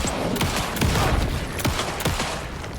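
Gunfire in Alan Wake II, a rapid run of close, loud shots in an irregular burst that pops out of dense, noisy game sound.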